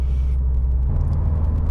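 A 2015 Subaru WRX STI with its 2.5 litre turbocharged four-cylinder boxer engine in sport sharp mode, giving a steady loud low rumble close by that shifts slightly in pitch partway through, no voices.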